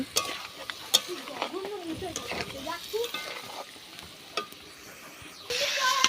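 Fried cauliflower pieces are stirred and scraped in a pan for a fish curry, with close spatula scrapes and taps over a steady sizzle that swells louder near the end; faint talk underneath.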